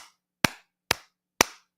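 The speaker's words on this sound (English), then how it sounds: "Slow clap for Dietrichs." Three slow, deliberate hand claps, evenly spaced about half a second apart, each crisp and close with a short ringing decay and silence between.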